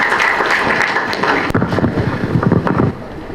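Audience applause at a film trailer launch for Namo Venkatesha, a loud, close burst of clapping with a wind-like wash for about three seconds before fading.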